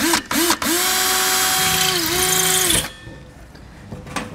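A power drill bores a hole to rivet a bracket on a 2022 Jayco Alante motorhome. It makes two short revving bursts, then a loud sustained whine that winds down near the end.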